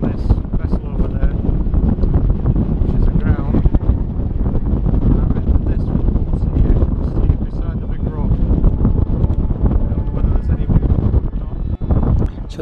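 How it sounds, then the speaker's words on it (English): Strong wind, lately easing from about 30 knots, buffets a boat anchored in Helen's Pool, a loud, constant roar of gusts battering close by throughout. "So the wind had dropped away a little bit from the 30 knots"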